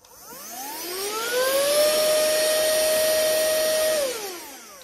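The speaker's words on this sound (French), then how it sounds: "Le chat a peur, donc c'est que c'est un bon aspirateur" A mini handheld vacuum cleaner switches on, its motor whining up to a loud steady high-pitched hum for a few seconds before spinning down, nearby and with no talking.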